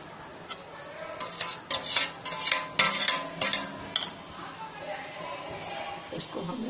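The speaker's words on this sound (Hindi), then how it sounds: "इसको हम मिक्स कर देंगे।" Ground ingredients for winter laddoos with jaggery being stirred in a hot pan over low gas, giving irregular scraping and rubbing strokes with a few sharper clinks in the middle, close and moderately loud.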